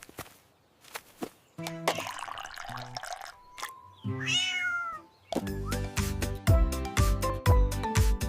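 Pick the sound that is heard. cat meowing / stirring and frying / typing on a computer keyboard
cat meowing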